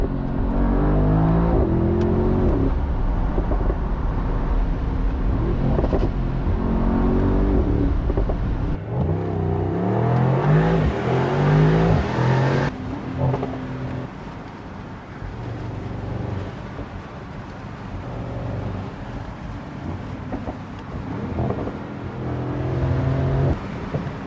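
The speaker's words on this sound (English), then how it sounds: "you can even hear the blow-off like in some sort of a rally car" A 2025 Mercedes-AMG SL 63 4MATIC+ Roadster's engine revs loud and close, surging through gears with a rising roar, then settling and building again, with brief turbo blow-off hiss between pulls.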